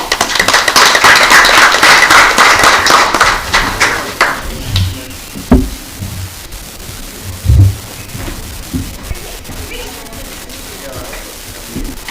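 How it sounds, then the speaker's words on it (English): Audience at a town council meeting in Williamston, South Carolina claps loudly for several seconds, then the applause thins into scattered claps and shuffling as voices and movement take over. "Let's give them a round of applause."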